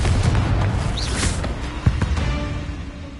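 A Confringo fire spell blast in Hogwarts Legacy, a dull boom and burst over a dense, roaring battle mix, with a sharper impact near the middle and continuous game noise throughout.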